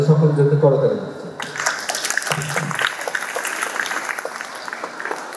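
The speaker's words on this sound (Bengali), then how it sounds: "তাদের সকলের জন্য করতালি দিচ্ছে।" An audience at a Japan Karate Association event in Cox's Bazar applauds young karate students. Someone speaks at first, then clapping from many people rises and continues steadily at moderate loudness.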